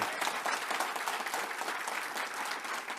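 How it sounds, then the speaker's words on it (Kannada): An audience at a public talk on the Bhagavad Gita breaks into loud, sustained applause, a dense wash of many hands clapping continuously from start to finish. "ಒಂದು ಸಾರಿ ಜೋರಾಗಿ ಚಪ್ಪಾಳೆ ಹೊಡೆದು ಸಹಮತಿ ಇದೆ ಅಂತ"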